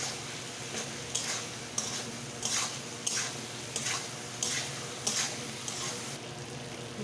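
A potato, pointed gourd and eggplant mixture stir-fried in a pan, with regular metallic spatula scrapes and clinks against the pan about every half second over a low, steady sizzle.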